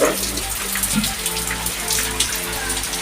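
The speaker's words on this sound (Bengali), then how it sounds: "কি বৃষ্টি হচ্ছে" Steady heavy rain from Cyclone Remal hisses across the whole stretch, with a constant low rumble and tonal hum underneath; no voices.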